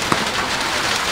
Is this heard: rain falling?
yes